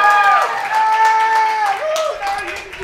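A studio audience cheers for Nick Carr with sustained whoops and voiced hollering over a steady wash of clapping, loud and close throughout.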